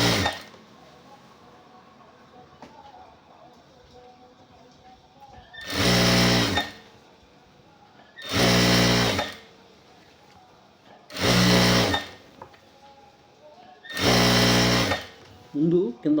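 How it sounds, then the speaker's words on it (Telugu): A sewing machine stitching the bottom strip of a checked shirt in four evenly spaced bursts of loud, fast whirring stitches, each a couple of seconds long, with quiet gaps between. "ఇప్పుడు కింద పట్టీ కుట్టుకుందాం"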